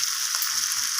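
A brief, steady hiss of spices, ginger paste, salt and vegetables sautéing in oil in a pan, close and even, with faint low knocks of stirring underneath.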